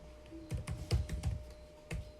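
A computer keyboard is typed on in a short burst, about a dozen crisp, close keystrokes in quick irregular rhythm, alone without talk.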